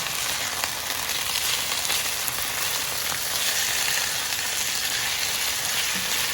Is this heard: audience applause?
no